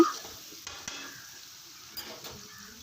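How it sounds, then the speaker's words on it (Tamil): Finely chopped onions frying in a pan for a peanut and ridge gourd curry, a soft steady sizzle with a few sharp clicks of stirring, close and without talk. "ஆனியன் இந்தளவுக்கு நல்லா ஃப்ரை பண்ணிக்கோங்க"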